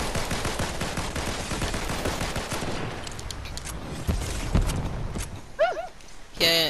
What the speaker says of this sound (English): There's somebody shooting at me!